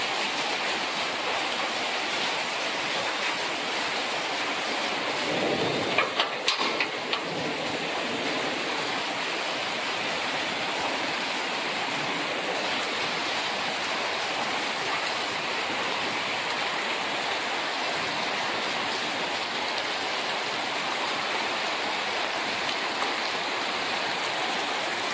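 Heavy rain pours down in a steady, dense hiss that fills the whole stretch evenly, with one brief louder knock partway through and no voices.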